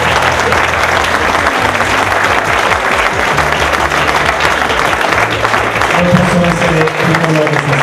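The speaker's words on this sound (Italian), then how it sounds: "Io vi chiedo un applauso per questi due grandi." A loud, steady roar of audience applause for a memorial trophy fills the whole stretch unbroken, with faint low tones running beneath it.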